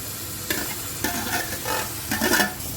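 Dal with coconut is stirred in a cooking pan, producing a soft sizzle under a few distinct scraping strokes of a spoon, close and moderately loud with no talking.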